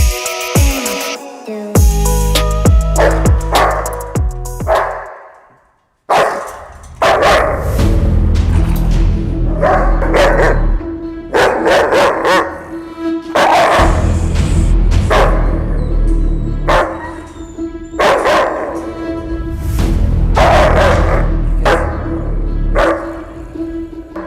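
A German shepherd barks repeatedly and loudly at close range, in deep, insistent bursts with brief gaps, over a long stretch.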